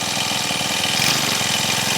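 A Honda FG110 tiller with a four-stroke engine runs at a steady idle, giving an even, low mechanical hum and rapid putter that stays constant and fairly close, with no talk over it.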